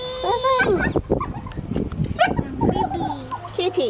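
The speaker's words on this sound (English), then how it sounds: "I'm wondering, why is this dog going so darn crazy?" A dog barks and yelps excitedly at a cat outdoors, loud, rapid and overlapping, with people talking over the commotion throughout.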